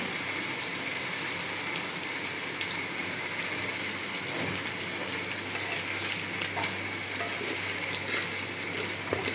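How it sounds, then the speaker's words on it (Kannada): Onions with salt sizzle steadily in a frying pan, a continuous close hiss and crackle with no talking. "ಉಪ್ಪು ಹಾಕಿದರೆ ಬೇಗ ಆಗ್ತದೆ, ಬೇಗ ಬೇಯ್ತದೆ ಕೂಡ ಆನಿಯನ್"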